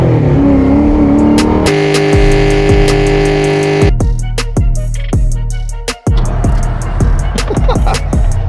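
A Foxbody Mustang with a budget 351 (387) stroker V8 revs hard for a burnout, loud and close, with repeated sharp throttle blips, a brief cut near the end, then renewed roaring revs.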